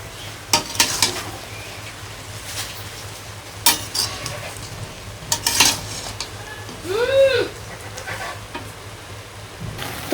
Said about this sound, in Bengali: আমার কচু শাকটা সিদ্ধ হইতেছে